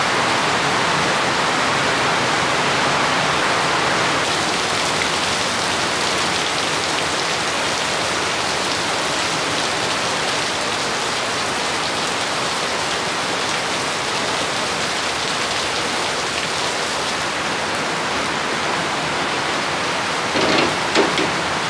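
Sudden heavy rain in Bangladesh pours down in a loud, dense, unbroken hiss that stays constant from start to finish, with no talking.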